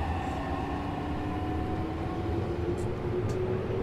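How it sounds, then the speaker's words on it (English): In the BVE5 simulator on the Odakyu Odawara Line, a train runs alongside with a steady, loud rumble of wheels and motors, a continuous rolling roar with faint high tones over it. "Oh guys, we got a train racing us."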